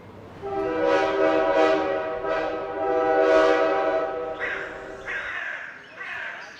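Train sounds in a Bengali rural horror audio drama: sustained harmonic horn-like blasts with several swells, followed by short hissing bursts near the end, moderately loud with no speech over them.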